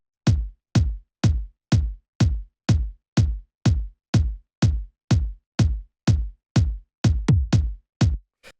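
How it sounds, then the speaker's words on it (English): Punchy kick drum from a classic Detroit house track, about fifteen evenly spaced deep thumps at a steady four-on-the-floor pace with a quick flam near the end, heard alone and fairly loud. "So then the next thing that we've got here is the kick"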